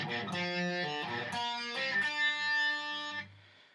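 An electric guitar plays a riff, with quick hammer-ons and pull-offs forming a run of clear, distorted notes that stops and rings out at the end.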